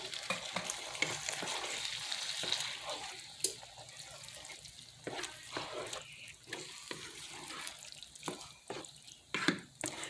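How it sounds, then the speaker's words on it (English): Canned spaghetti sauce hits a hot pan for a stuffed bell pepper casserole, giving a steady sizzle and frying hiss with occasional stirring clatters, fairly close and alone without talk. "I'm going to go in with some spaghetti sauce."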